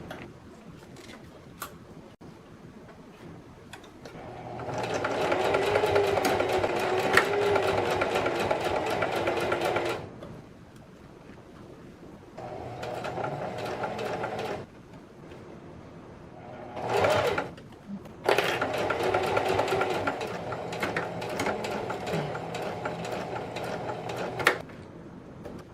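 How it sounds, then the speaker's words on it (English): A sewing machine runs in three long bursts, edge stitching the folded fabric casing of a face mask, with a steady rapid whirr and quieter clicks and handling noise in between. "You're going to edge stitch along that folded edge."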